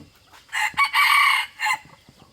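A junglefowl rooster crows nearby in a loud, segmented call of several bursts with a drawn-out middle note, standing alone against a quiet background.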